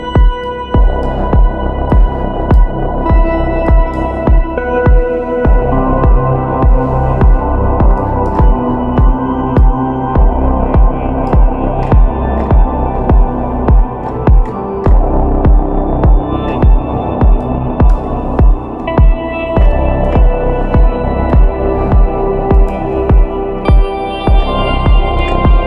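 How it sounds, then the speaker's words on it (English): Deep techno track drenched in a big room reverb, with a loud throbbing low bass pulse, steady rhythmic hits and layered sustained synth tones running continuously throughout. "put like a big reverb, silver reverb here with my grandiose preset, a really big room, really trippy."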